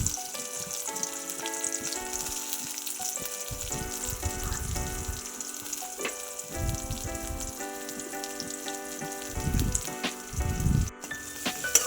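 Onions frying with beans and chilli in oil make a steady sizzle throughout, with louder bursts of crackle and stirring scrapes breaking in now and then; tonal background music plays underneath and nobody speaks.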